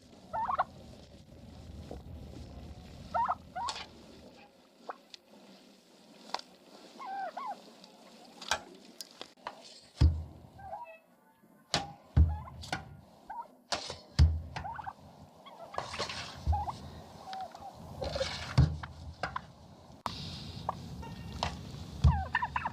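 Turkeys gobble on a historic farmstead: a chorus of bubbling calls in repeated bursts, some close and loud, others farther off, over a low background rumble, with no talking.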